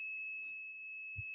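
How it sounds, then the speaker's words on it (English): Electronic beep, steady high-pitched tone holding throughout at moderate level, with a short low thump near the end and no talking. "another beep."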